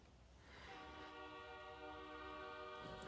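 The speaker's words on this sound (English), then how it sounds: "Oh my god, with the fucking train." A train in the mobile game SimCity BuildIt rolls through, a soft rumble that rises into a sustained tonal horn-like whistle, faint and steady for a few seconds, with no speech.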